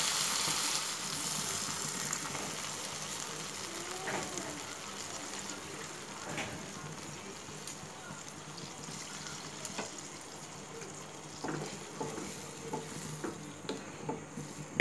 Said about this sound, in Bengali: জল দিয়েছি, জল দিয়ে এটাকে ভালো করে মিশিয়ে জাল করে নেব।